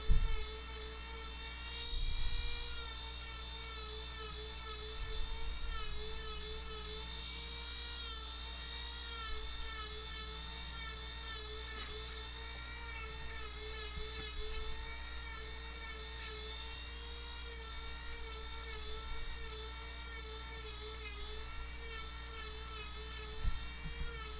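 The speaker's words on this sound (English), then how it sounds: "This is that drum sanding wheel, and I'm just going to smooth over the tops of each branch." A small high-pitched Dremel rotary tool with a drum sanding wheel whines steadily on birch wood, with a constant buzzing motor tone and slight pitch wobble as it sands, fairly quiet and continuous.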